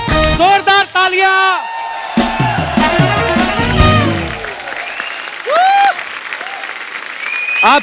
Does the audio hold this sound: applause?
yes